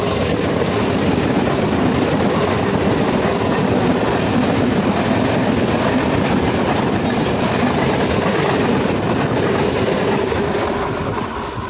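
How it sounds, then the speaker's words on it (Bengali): A train passes close by on the railway line near a station, a loud, continuous rumble with wheel clatter that holds steady for over ten seconds and eases slightly at the end. "ওই যে ট্রেনটা চলে গেল"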